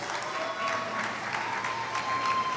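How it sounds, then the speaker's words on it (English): Sustained audience applause greets the finalists at a world chocolate championship final, a dense, even wash of clapping across the whole stretch with a faint steady tone running beneath. "Please give them a big round of applause."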